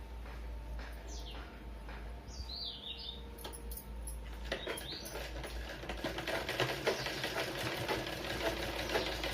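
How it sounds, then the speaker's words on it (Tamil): A sewing machine stitching a quarter-inch seam around a blouse waist, quiet at first with faint chirps in the background, then a fast, rhythmic mechanical ticking that grows louder and runs steadily through the second half. "அப்படி 1/4 இன்ச்சுக்கு சுற்றி தையல் போட்டுருங்க"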